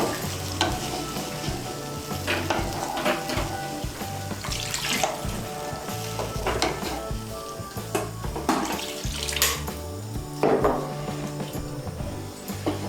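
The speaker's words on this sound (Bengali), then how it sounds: "আমি এর মধ্যে 2 কাপ জল দিচ্ছি।" Two cups of water are poured into a sizzling pan of vegetable curry, the hot oil and spices hissing and crackling loudly as the liquid hits, with stirring and splashing throughout and no talking.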